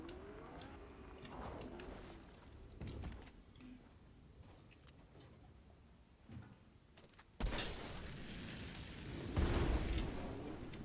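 Low rumbling booms of explosions go off amid Fortnite game sounds, with a heavy blast and roar near the end, loud and close.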